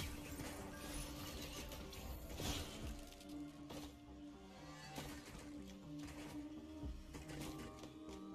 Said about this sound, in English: Why are there so many 3D printers?